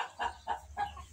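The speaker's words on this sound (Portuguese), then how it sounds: "tem uma galinha gritando aí, mas a gente sabe onde tem ave, é assim mesmo" A hen squawks in a poultry setting where birds are being treated for infectious coryza and fowl typhoid, giving four loud, evenly spaced harsh cries in a row, close by with no talking.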